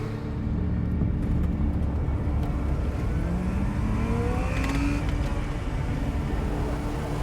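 Video-game car in Life Is Strange: Reunion accelerating hard with a steady engine roar and rising whine, loud and continuous throughout with no talk.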